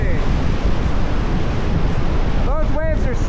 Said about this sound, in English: Those waves are 6 to 8 feet.